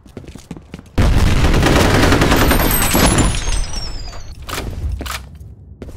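A grenade blast and gunfire in F.E.A.R.: a sudden loud burst of dense rumbling noise, followed by a sustained roar and clatter of shots that gradually thins out. No one speaks.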